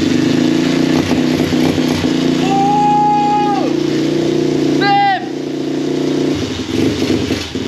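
Loud, close engine of a home-built racing lawnmower assembled from parts of other engines, droning steadily, with short rising rev tones, a brief dip, then a rougher surge near the end.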